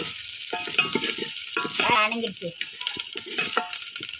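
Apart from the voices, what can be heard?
sambar poured onto frying onions, sizzling while stirred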